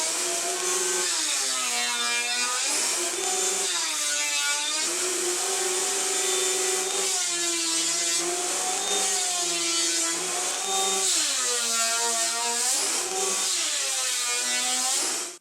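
Thickness planer feeding pallet wood boards, a loud, steady high-pitched whine with repeated passes that rise and fall in pitch as each board runs through, close and continuous with no talking.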